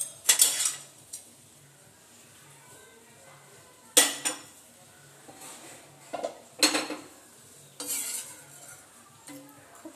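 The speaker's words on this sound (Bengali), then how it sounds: "এবার মাছটাকে ছেঁকে তুলে নেবো একটা পাত্রের মধ্যে।" Boiled fish lifted from a pot into a bowl in a home kitchen: sporadic bursts of clattering utensils and clinking cookware separated by quiet gaps, with a faint low hum beneath.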